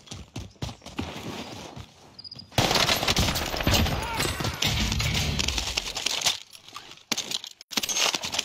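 Rapid bursts of gunfire in a video game, a loud sustained volley of automatic shots over several seconds with quieter scattered shots before and after.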